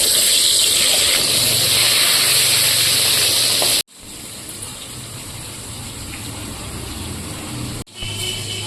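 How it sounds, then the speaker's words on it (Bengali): Fish frying in a pan on a gas stove, a steady loud sizzle and crackle of hot oil with bubbling, nearly constant throughout and briefly cut twice. "সেজন্য সাইডে আমি মাছ ভাজা বসিয়ে দিচ্ছি।"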